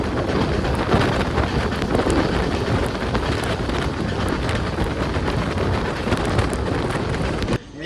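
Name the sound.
heavy monsoon rain during a train journey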